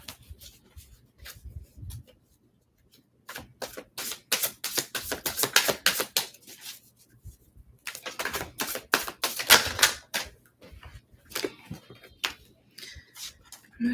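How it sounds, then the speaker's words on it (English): A deck of tarot cards is shuffled at close range in bursts of rapid, crisp riffling and clicking, with a short pause near the start and quieter stretches between, no voices. "I'm going to shuffle these some more."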